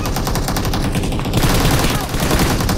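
Rapid automatic gunfire from the mobile battle royale game BGMI, loud dense bursts of shots running continuously with no pause, mixed with game sounds.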